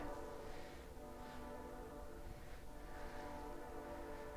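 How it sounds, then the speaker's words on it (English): Train passing at a distance, a faint steady rumble with soft horn-like tones drifting through, no voices present. "There's the train."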